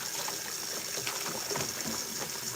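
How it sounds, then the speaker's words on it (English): Water runs steadily into a single kitchen sink while dishes are washed, a continuous hiss of flowing water with faint clinks and splashes close by. "We're working with one sink, so get them washed and get them over there in the drying thing."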